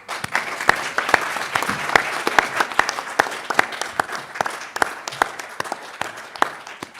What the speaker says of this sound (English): he deserves a big round of applause for that